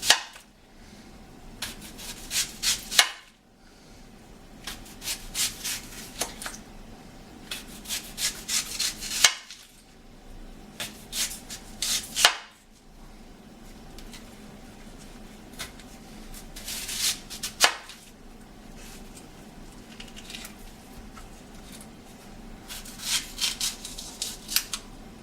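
A knife cuts yam into tiny pieces for frying, giving repeated bursts of crisp slicing and scraping in clusters separated by short pauses, close and fairly loud.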